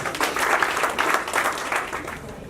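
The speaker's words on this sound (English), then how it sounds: "Please give her a round of applause." Audience applause at a women's peace and empowerment summit, welcoming a speaker to the stage: a full, steady burst of clapping from a crowd that tapers slightly near the end.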